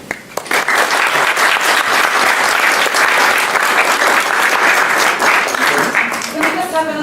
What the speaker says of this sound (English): Can we just have another round of applause for the speakers who kindly agreed to volunteer their evening for us tonight?